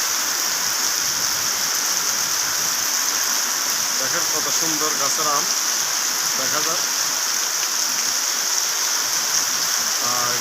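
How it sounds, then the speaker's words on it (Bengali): Heavy rain pouring down in Maijdi, Noakhali, a loud, dense, unbroken hiss of downpour close by, with someone speaking briefly over it. "দেখেন দর্শক কী পরিমাণ বৃষ্টি"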